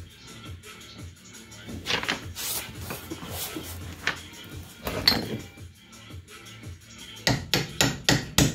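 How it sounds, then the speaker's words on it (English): Repeated metal hammer strikes on a car steering rack ring out irregularly, some sharp and loud, with scraping and clanking between blows and a quick burst of hits at the end. "Never hammer on a steering rack, just FYI."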